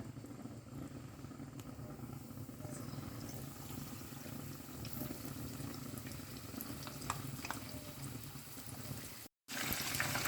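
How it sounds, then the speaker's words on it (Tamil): Fish frying in hot oil in a pan, a steady crackling sizzle with a low rumbling undertone throughout, briefly cutting out near the end before resuming. "இந்த மீனை இப்போ பொரிச்சிக்கலாம்"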